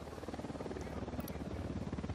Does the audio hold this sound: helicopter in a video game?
yes